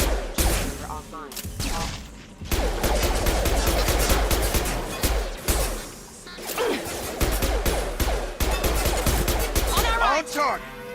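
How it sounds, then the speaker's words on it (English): Gunfire in the video game Mass Effect 2 at a colony firefight: dense volleys of rapid shots and impacts, loud and near, with voices speaking over the fight. "Shoot them before they take out the shield."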